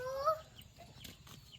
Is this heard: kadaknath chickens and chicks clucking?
yes